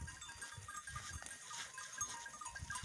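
Local goats on a farm in Nepal bleat now and then against steady outdoor background noise, the calls fairly faint and scattered through a busy rural ambience.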